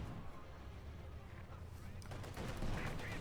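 Machine gun fire in the Company of Heroes 2 battle game comes as dense, rapid bursts and booms, building louder toward the end.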